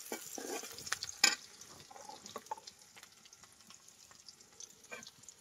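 Chili and onion frying in a pan, a soft crackling sizzle with a few sharp clinks of stirring, moderately quiet and without talk.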